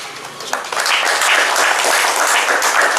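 An audience at a 5K run event in Guntur claps for the runners Ravi Kumar and Nagaraju, a dense, steady round of applause that swells in after a brief quieter moment and carries on.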